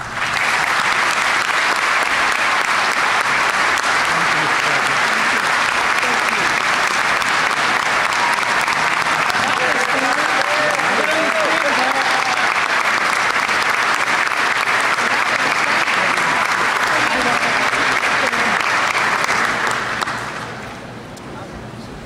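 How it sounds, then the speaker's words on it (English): A commencement audience bursts into loud, sustained applause, dense clapping with faint crowd murmur lasting about twenty seconds before abruptly thinning out. "give him a rousing applause"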